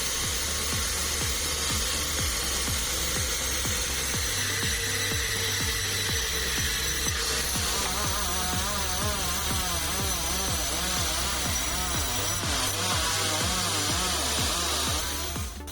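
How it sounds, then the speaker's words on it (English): A powerful sawmill circular saw bites through a large old tree log, its steady high whine and rough wooden rasp running continuously. The cutting tone shifts partway through, with no voices. "This circular saw is so powerful that even a 100-year-old tree cannot make it difficult."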